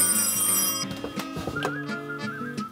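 A 1950s vintage telephone rings with bright, sustained tones in a steady repeating pattern, fairly clear and close, with no talk over it.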